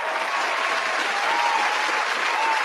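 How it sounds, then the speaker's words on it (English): Steady, close applause from a studio audience, dense clapping holding at an even level for a few seconds with no voices over it. "Give her a round of applause."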